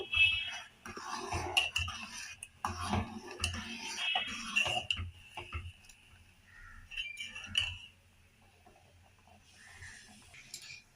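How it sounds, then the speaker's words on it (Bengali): Ground rice being stirred in a cooking pot makes light scraping and clinking sounds, with irregular metallic taps that fade toward the end. "এখন এটা আবার কন্টিনিউ নাড়তে থাকতে হবে, যেন হাঁড়ির তলায় বসে না যায় চালটা।"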